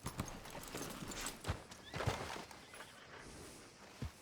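Hooves clop unevenly at a walking pace in Red Dead Redemption 2, fairly quiet, with a faint horse snort mixed in.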